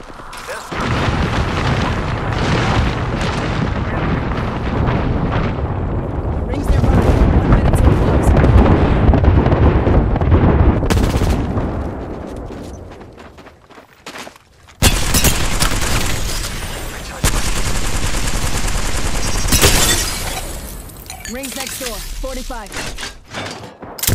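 Heavy gunfire and booming blasts in a video game combat scene, loud and dense in long continuous bursts, broken by a short lull.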